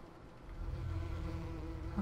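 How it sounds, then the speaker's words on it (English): Bees buzz softly in a Farming Simulator 2017 farm scene, a faint continuous droning hum that thickens midway and carries on steadily with no talking. "Hey, we got bees."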